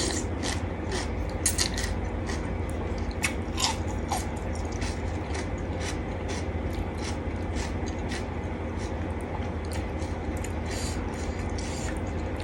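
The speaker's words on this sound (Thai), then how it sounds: "เคี้ยวหัวไปเลย" Small shrimp heads are chewed close to the mic while eating a Thai seafood salad, giving a continuous run of crunchy, crackling bites over a steady low background.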